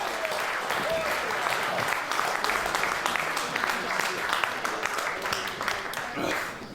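A crowd at a German professional wrestling event applauds continuously, a steady wash of clapping heard from a distance with a commentator talking over it.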